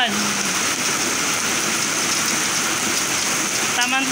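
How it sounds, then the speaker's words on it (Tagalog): Heavy rain falls in a village, a dense, loud, unbroken hiss of drops pattering on surfaces throughout, with a faint voice briefly at the end. "Maulan."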